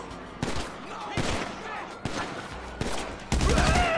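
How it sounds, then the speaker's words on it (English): Bursts of GTA 5 gunfire crack out in rapid fusillades, several loud volleys close together over four seconds, with a voice briefly talking over them. "Is that my butler shooting too?"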